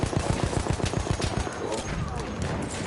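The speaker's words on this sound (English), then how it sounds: "Still the plenty of gunfire." Rapid rhythmic gunfire bursts in Battlefield 1, a steady automatic rattle at first that breaks into scattered shots under a noisy battlefield wash, fairly close and loud.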